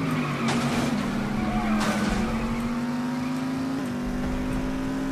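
Race car engine in The Saboteur held at steady acceleration during the final race, a continuous droning whine rising slowly in pitch with a brief gear-like shift, with tire and skid noise layered over it throughout.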